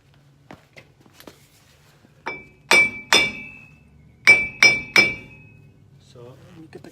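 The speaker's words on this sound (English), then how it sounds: "Now we got to take a hammer and knock the hub loose." Hammer blows knocking a corroded front hub loose on a Ford F150, a few light taps followed by five sharp metallic clanks in two bursts, close and loud with ringing overtones.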